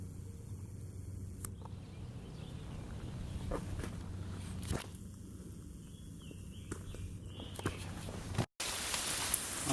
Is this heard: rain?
yes